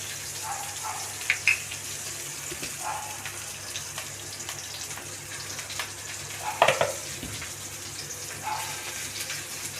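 Onion frying in a tempering of hot oil with cumin seeds, giving a continuous close sizzle with a few louder clattering bursts from stirring.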